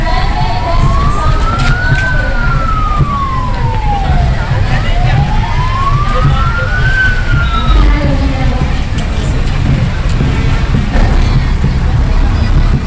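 A fire truck siren wails in two long rising and falling sweeps at the head of a festival float parade, loud and steady over a dense crowd and street noise.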